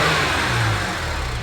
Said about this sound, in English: That's some crazy sounding rod knock,